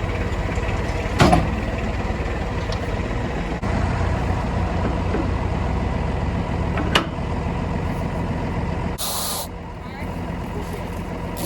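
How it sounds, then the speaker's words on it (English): Tractor running while wrapping hay on a farm, a steady engine drone throughout with occasional hissing bursts like an air release, heard up close. "what Kaylee's doing is running the tractor"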